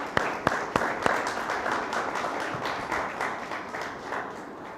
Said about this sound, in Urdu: کیوں نہ خدم کو زوردار تالیوں سے جلا دیں۔